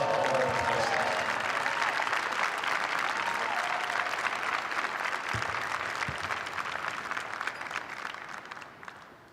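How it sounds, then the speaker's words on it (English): A large arena crowd applauds the girls competing at the Elks Hoop Shoot national basketball free-throw finals, a broad sustained wash of clapping that gradually fades near the end. "Give them a round of applause."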